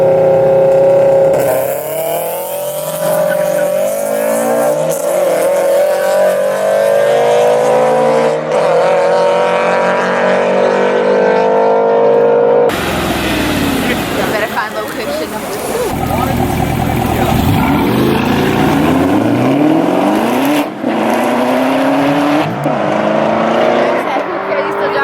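Audi R8 at a street car meet, engine revving loudly with climbing harmonic sweeps, an abrupt cut midway then more engine and crowd noise, people talking nearby.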